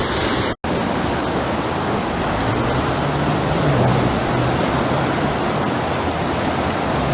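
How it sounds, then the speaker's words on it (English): Floodwater rushes through streets in the Czech Republic during heavy flash flooding after a relentless downpour, a loud, steady broadband roar that continues unbroken after a brief gap near the start. "the relentless downpour transformed peaceful streets into raging torrents"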